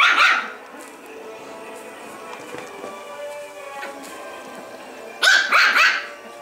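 A Norfolk terrier puppy plays with a Westie, giving a sharp burst of yappy barks at the start and a louder flurry of quick barks near the end, with soft growly play noises and quiet movement in between.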